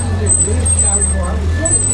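A British Cold War-era scout car from around 1950 idles quietly at an armor museum event, a steady low engine hum with a faint high whine running throughout.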